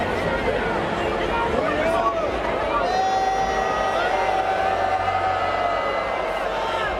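A US Open tennis crowd turns on climate protesters, a dense, continuous babble of shouting and jeering voices throughout, with individual yells rising out of the din.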